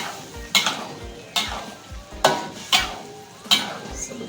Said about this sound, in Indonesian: kita campur tahu yang sudah kita goreng setengah matang tadi ya